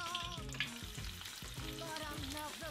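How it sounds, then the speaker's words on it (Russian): Fern fries and sizzles in a pan alongside venison cooking, a steady close crackle with rhythmic scraping and stirring sounds throughout. "отправляем на жарку наш папоротник"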